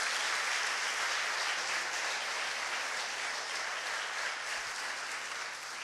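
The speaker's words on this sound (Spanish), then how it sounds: "Vamos a darle un aplauso a todos los ministerios de Torre Fuerte" Steady, dense applause fills a church service for its ministries, a continuous wash of many hands clapping at even loudness throughout.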